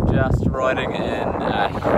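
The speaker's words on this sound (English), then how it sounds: "strong winds and heavy rain" Strong wind with heavy rain buffets the microphone in a constant loud rush during a New Zealand bike tour, with faint voices muffled underneath.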